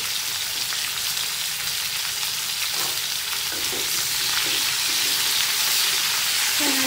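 Spices frying in oil in a pan, lightly browning in a village kitchen, give a dense, loud, continuous sizzle with a few faint scrapes and clinks beneath it; no one speaks.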